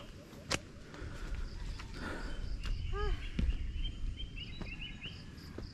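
Birds call on a forested mountain trail on Mt. Opao, Sicogon Island, in Iloilo: a few short chirping phrases and a rising whistled series, fairly faint against rustling, footsteps and insect hum.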